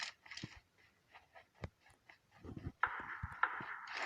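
A dog makes a few short, scattered yips and panting huffs at close range, with quiet gaps between them and a denser burst near the end.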